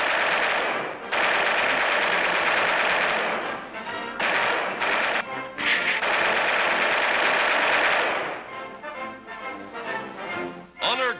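Machine gun fire during aerial gunnery training rattles in long rapid bursts with brief gaps, loud and dense throughout, with other engine and battle noise mixed in.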